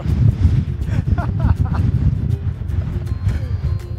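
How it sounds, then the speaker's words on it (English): Strong wind gusting around 30 to 35 knots at an open outdoor spot batters the microphone with a continuous, heavy low roar and buffeting that never lets up. "It's as windy on camera as it is. It's like 30 knots maybe, gusting 35."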